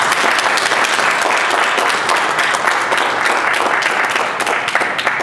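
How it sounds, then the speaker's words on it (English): Wedding guests applaud the couple, Sheron and Kenneth, with loud, sustained, dense clapping from a sizable crowd that fills the whole stretch of about five seconds, with no one speaking. "Clap them, beloved."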